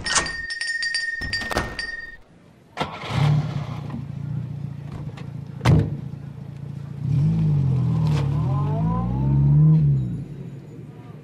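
A car door thunks shut close by, followed by a few more knocks and clinks. Then a car engine starts and revs as it pulls away, the engine note rising and falling under a faint voice.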